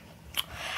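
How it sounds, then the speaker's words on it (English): Someone bites into a grilled cheese sandwich and chews, giving a short close crunch followed by faint, soft chewing noises in a quiet room. "right now, I'm just going to eat my sandwich"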